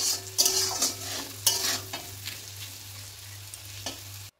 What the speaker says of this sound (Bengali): এবার 1 চামচ জিরে দিয়ে দিলাম, দিয়ে আরেকটু ভালোভাবে কষিয়ে নেব।